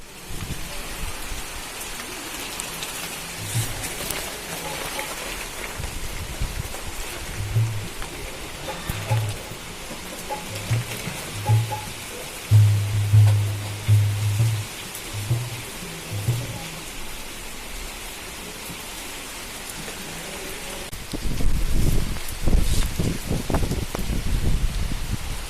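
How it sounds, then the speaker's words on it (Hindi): Unseasonal rain falling steadily as a broad, even hiss, with a run of soft low thumps partway through and a louder gusty swell near the end, and no voices. "बेमौसम बारिश हुई"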